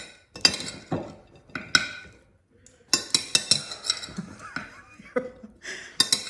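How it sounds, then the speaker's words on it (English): A metal spoon clinks and scrapes against a dinner plate in irregular bursts while a person with essential tremor tries to scoop peas, sharp close taps separated by brief pauses, with a faint chuckle. "Let's try a spoon for the peas."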